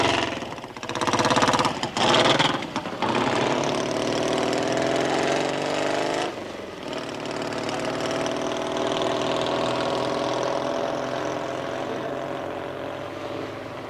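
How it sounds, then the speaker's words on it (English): A newly built chopper motorcycle from a 1970s Hells Angels outing runs steadily, its engine a loud, continuous drone with a few sharp bursts early on before settling into an even hum. "Andy offers John a lift up to Golders Green on his newly completed chopper"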